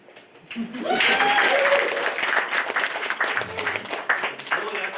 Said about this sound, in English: By the way, you can clap a little louder.